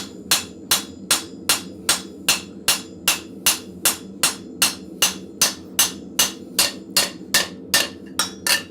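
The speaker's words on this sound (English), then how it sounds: "I'm just trying to put ball peen hits into the steel to give it a little texture" A ball peen hammer strikes cold steel on an anvil in a blacksmith forge, about twenty-four sharp ringing blows in a steady, even rhythm, close and loud over a low background hum.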